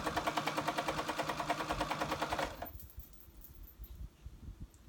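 A sewing machine bastes a hood onto a cozy snuggle blanket, its rapid rhythmic stitching running close and steady for a couple of seconds, then stopping, leaving soft handling noises.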